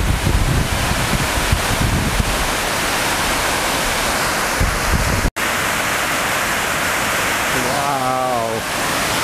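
Water gushing down the Ladybower dam plug hole overflow in the Peak District on a wet day, a loud, steady roar of rushing water mixed with wind buffeting the microphone, and a voice briefly heard near the end.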